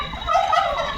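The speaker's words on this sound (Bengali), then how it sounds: "এটা মুরগি, মা কাশছে, ও কাশছে কাশছে।" A chicken gives a short, raspy, cough-like call that sounds almost like a gobble. It is close and fairly loud, with steady outdoor background noise.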